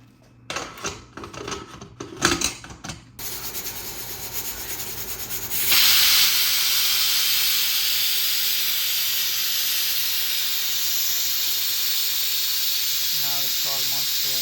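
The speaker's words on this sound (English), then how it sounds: "now I just close the lid of pressure cooker." Steady loud steam hiss from a pressure cooker on a gas stove, rising abruptly after some clattering handling of the lid and continuing unbroken, with faint clicks near the end.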